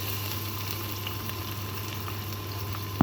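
Onions and dals frying in oil in a kadai, a faint continuous low sizzle and bubbling close by, steady throughout, with a small knock at the end and no talk.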